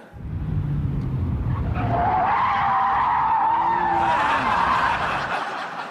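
A Porsche 911 996 Turbo spins out, its tyres screeching loudly in a long rising skid with engine noise underneath, the squeal sustained for several seconds before cutting off.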